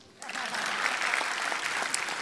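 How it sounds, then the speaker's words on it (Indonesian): Crowd applause at a stand-up comedy roast, breaking out suddenly after a quiet moment and holding as a dense, even wash of clapping. "Boleh tepuk tangan"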